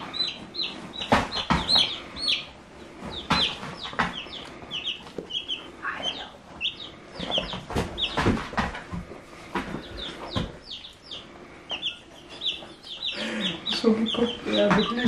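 Several chickens cluck and chatter nearby in short bursts, including higher-pitched calls from a small rooster, with occasional talking in the background.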